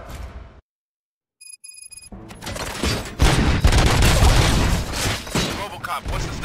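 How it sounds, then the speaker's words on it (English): Gunfire in the Robocop Rogue City video game, a loud dense burst of rapid shots and impacts after a short silence and a chime, continuing as heavy sustained fire. "Gunshots? What's going on?"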